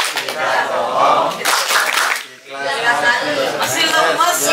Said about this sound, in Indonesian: Ya, tepuk pamsi.